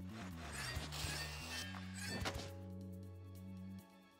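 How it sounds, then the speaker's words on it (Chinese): A black hole explodes in the video game Ultimate Chicken Horse: a dense crash of layered effects with thunks and a few sharp hits, settling into steady sustained game tones that cut off near the end. "黑洞开炸了，黑洞开炸了。"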